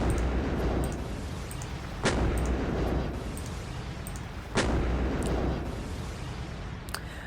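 Ships firing on an enemy cruiser in a video game: a steady roar of battle noise broken by two sharp, loud blasts spaced a few seconds apart.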